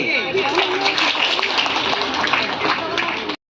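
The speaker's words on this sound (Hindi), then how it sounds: "सब कोई तालियां बजाएंगे।" An audience at a seed and food festival gathering in Godda claps hands, steady dense applause that keeps up throughout and then cuts off abruptly at the end.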